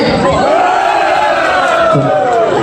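Members of a class of a school alumni reunion shout a loud group cheer together, a continuous roaring chorus of voices held for under three seconds, close and loud.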